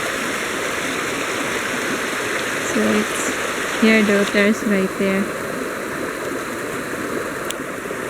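Steady broadband rush of a river waterfall flowing continuously, with people talking over it in the middle.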